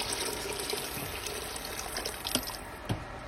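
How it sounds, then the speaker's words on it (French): Hot water poured into a pot of simmering meat for a Berber couscous, a steady watery splash with a few brief louder drips and splashes, heard alone without talk. "après 15 minutes, je rajoute l'eau bien chaude."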